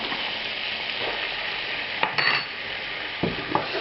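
Butter and flour roux sizzling in a pan, a steady hiss broken by a few scraping, clattering stirs partway through and again near the end, close and alone with no voices.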